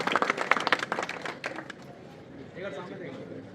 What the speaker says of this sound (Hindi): इन सास बहू की जोड़ी के लिए एक बार जोरदार तालियां